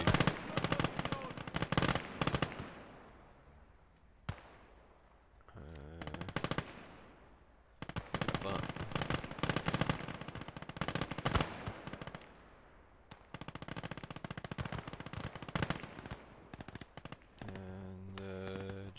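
Machine gun fire in the World War II strategy game Call To Arms: Gates Of Hell, with loud sustained bursts and rattling volleys broken by short pauses, mixed with other game effects.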